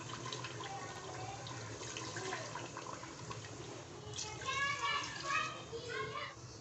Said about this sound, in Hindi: मैं यही 3 गिलास पानी के डालूंगी इसके अंदर